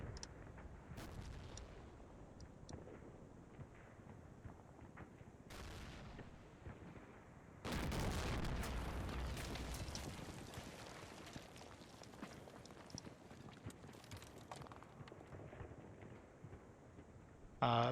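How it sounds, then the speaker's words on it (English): Artillery shells bursting in the Combat Mission Final Blitzkrieg war game, a few heavy booming blasts with one long rumbling roll midway, set against a low quiet battlefield background, with brief faint speech. "there's the artillery then"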